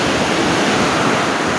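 Typhoon wind and heavy rain roar steadily outside a window, a dense, unbroken rushing wash with no voices.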